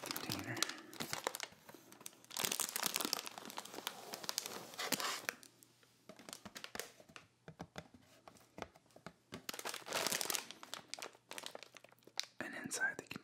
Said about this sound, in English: Inside the box is a plastic container.